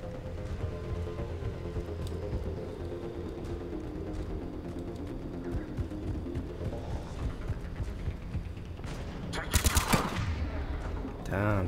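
Automatic turret gunfire from Mass Effect 3 combat: steady rattling bursts under a dense game soundscape, growing to a louder, sharper volley near the end.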